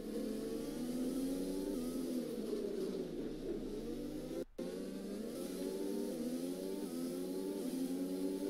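In the F1 2021 video game, a Formula 1 car's engine whines and revs through rising and falling gear pitches during a DRS overtake, fairly quiet with a brief dropout midway.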